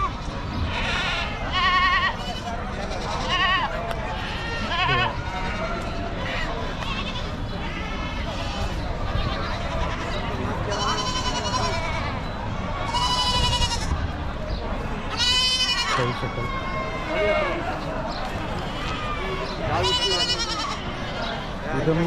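Goats and sheep bleat repeatedly at a large weekly goat and sheep market in Chakan, Maharashtra, with short wavering cries rising over constant crowd chatter and someone talking close by.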